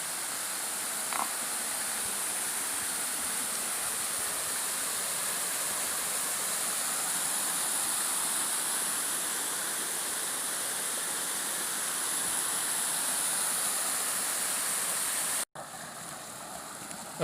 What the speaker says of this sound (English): So here's the first waterfall.